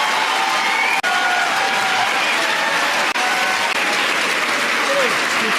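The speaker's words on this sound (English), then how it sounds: "all these people are applauding" Loud, dense audience applause at a political event, a continuous roar of clapping with scattered cheers and faint voices mixed in, broken by two brief sharp dropouts.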